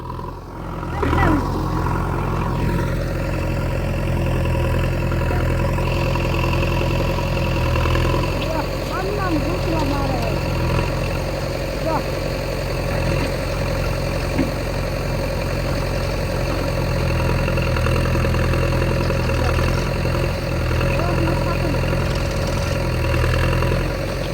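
A tractor engine idles with a steady, low rumbling drone close by, while people talk over it.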